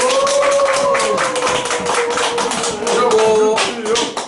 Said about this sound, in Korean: 믿으시면 이럴 때 박수 한 번 보내주시고